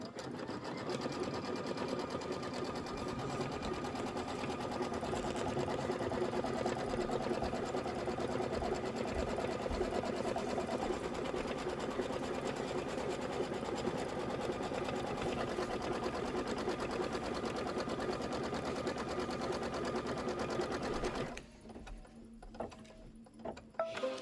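A sewing machine tacking down fabric for a Kimberbell bench pillow runs in a continuous fast stitching whir for about twenty seconds, then stops, leaving a few faint clicks and handling noises.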